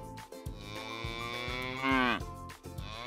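Cattle mooing in a sunny meadow: a long, loud, drawn-out moo with a rising then falling pitch, clear and close, with no talking.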